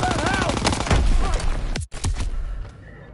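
Heavy gunfire and explosive bangs in Call of Duty WWII, a dense loud barrage close by with a brief cutout, while a voice speaks over the shooting.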